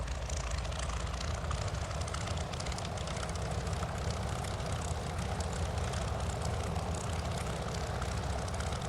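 Steady, loud drone from the engine of a P-40F Warhawk in a flight simulator, run up to 1800 RPM with the propeller full forward and the mixture rich, holding even and unbroken throughout without voices.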